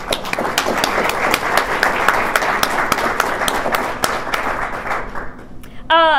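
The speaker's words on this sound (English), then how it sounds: "So I think that deserves a round of applause to kick us off" Loud, sustained applause from an audience at a university first-year writing awards ceremony, dense clapping with sharp individual claps standing out, running for about six seconds before ending abruptly into a brief voice.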